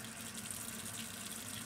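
Very hot water runs steadily from a tap while a jaw harp is washed and soaked, a soft, even hiss of flowing water with no voices and no change in level.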